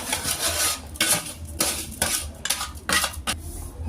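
A spoon scrapes and clinks around a pot of payasam made with milk, sago and fried vermicelli, giving a string of close, uneven stirring strokes with short pauses between them.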